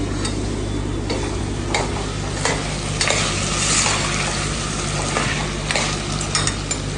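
Carrot, green chili, salt and potato stir-fry in a hot pan, a steady sizzle broken by regular scraping strokes of a spoon, close and continuous with no talk.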